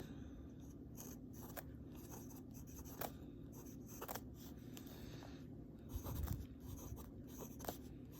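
Fountain pen nib gliding over paper with Pilot Iroshizuku Yama-Guri brown ink, a faint, steady scratchy whisper of strokes with occasional small taps and a soft rustle near the end.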